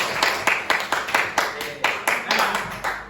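Rhythmic clapping from a group, about a dozen strong, evenly timed claps ringing in a roomy space, loud and close, with no talking over them.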